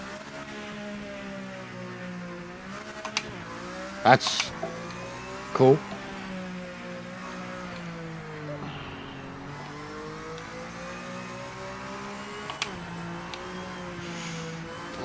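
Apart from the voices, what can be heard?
LMD race car engine revving in the video game PMR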